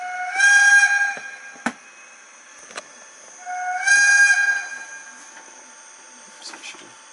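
A Rivarossi HO-scale DB BR55 model steam locomotive with a factory-fitted Zimo sound decoder sounds two bright whistle blasts, each about a second long and several seconds apart, with sharp clanks and hisses between them.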